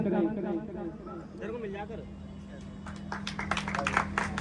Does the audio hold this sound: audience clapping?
yes